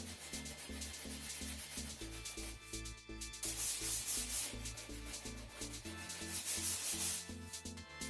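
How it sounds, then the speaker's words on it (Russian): Coarse 40-grit sandpaper rubbed over the sharp corners of cut plywood hexagons, a steady rhythmic scratching with repeated strokes, close and fairly loud, with no talking. "Буду стачивать вот эти вот острые углы. Наждачка"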